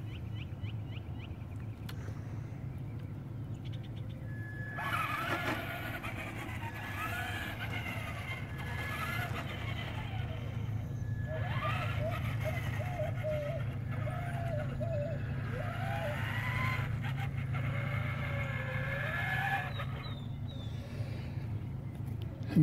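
A Traxxas Ford F150 Raptor 2WD RC truck, fitted with an autopilot, runs under manual control, its small motor whining in rising and falling bursts. A steady background rumble sits beneath the whine.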